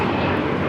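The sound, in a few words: Delta Airbus A321 jet taking off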